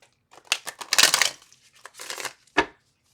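A deck of tarot cards being shuffled twice at close range: two rustling, riffling bursts of card noise, then a single sharp snap of the cards settling, with quiet pauses between.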